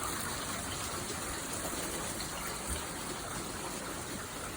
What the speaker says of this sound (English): Plenty of flooding going on in the yard in the front.